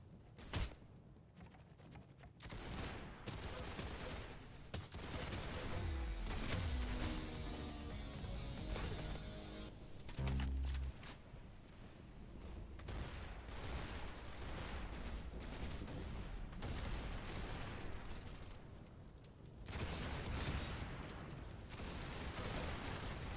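Gunshots ring out in the Roblox shooter Arsenal: rapid bursts of sharp cracks and clattering impacts, some fast strings of fire, loud and busy against a layer of game noise.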